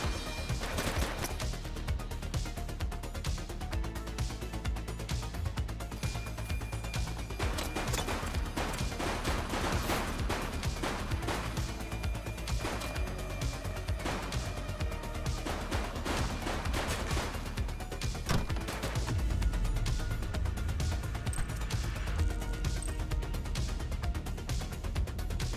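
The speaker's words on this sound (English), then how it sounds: "He's shooting!" Sustained gunfire rattles through a firefight in The Precinct video game, with dense repeated shots and bursts, loud and continuous, set against a steady background of game sound.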